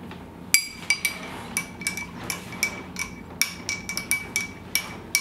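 A spoon stirring baking-soda lemonade in a glass, with bright repeated clinks against the glass in an irregular quick rhythm, close and alone.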